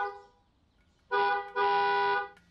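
Car horn honking outside a house: two loud, steady blasts in quick succession, the second held longer, after a quieter fading tone.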